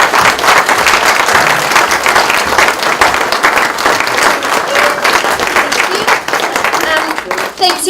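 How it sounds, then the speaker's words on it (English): Applause for the presenters at an awards night, loud and sustained clapping from a crowd with cheering voices mixed in throughout. "if we could have a little clap for our fabulous presenters."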